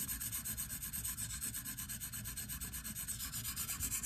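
A knife blade rasps back and forth on a worn 300 grit stone in a KME sharpener, quiet steady rhythmic scraping strokes with no talking.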